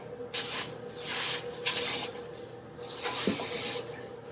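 Hose spray rinsing milk filter canisters in a dairy milkhouse: repeated hissing bursts of water in short passes, close and fairly loud, with brief pauses between sprays and a faint clunk near the end.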